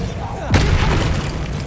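A Bombarda blast spell in Hogwarts Legacy goes off as one sudden booming explosion, followed by a dense rumbling tail that trails away, with voices speaking around it.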